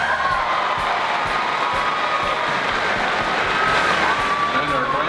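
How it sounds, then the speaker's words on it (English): Crowd at a livestock stock show applauds and cheers for a champion, a steady broadband wash of clapping with scattered whoops, loud and continuous throughout. "Let's give him a round of applause."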